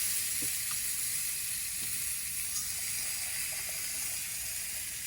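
Onions and zucchini dressed with olive oil, salt and pepper sizzle on a hot Eureka SPRK camp grill, a steady bright hiss with faint crackles that holds evenly throughout, no talking.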